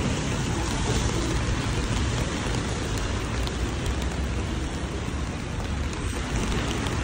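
Steady rain falls outdoors during a trip in Japan, a dense, even hiss of drops that runs unbroken and fairly loud throughout, with no talk.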